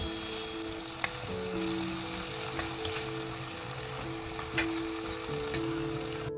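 Hyacinth bean curry sautéing with ground masala paste, a quiet steady sizzle broken by a few sharp clicks of a spoon against the pan, with a faint tonal hum running underneath.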